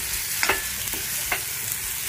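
Onion and capsicum sauté in a pan for chicken manchurian, a soft steady sizzle broken by a few quick scrapes of stirring.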